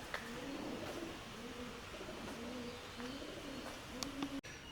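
Pigeons coo over and over in a soft, rolling rhythm inside a motorcycle museum in Bangkok. A few faint clicks and small knocks sit in the background.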